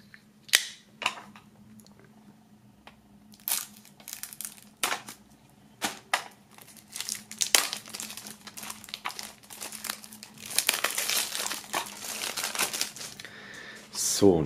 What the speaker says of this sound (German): Und nachdem hier das Tape und das Shirt noch eingepackt sind, werden wir die mal aus der Folie holen.